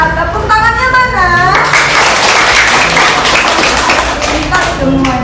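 An audience at an informal gathering with a local military commander bursts into loud, close applause after a voice speaks, the clapping sustained with some cheering mixed in.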